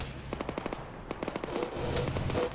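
Bursts of automatic gunfire in a military shooter game, rapid cracking volleys that repeat in quick strings, loud and fairly close with a rumbling backdrop.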